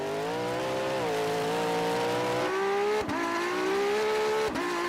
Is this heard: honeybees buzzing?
no